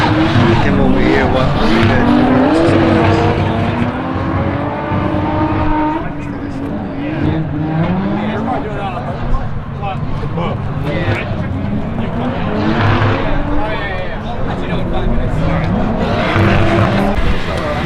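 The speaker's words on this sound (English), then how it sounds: "They just started qualifying drifting" Cars drifting on a drift track during qualifying at a car show, engines revving with skidding, squealing tires, loud and continuous throughout with crowd and talk mixed in.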